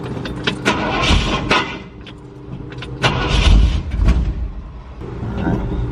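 A truck engine cranks and catches, loud and close, with repeated bursts of starter and engine noise rising and falling over several seconds as it struggles to run.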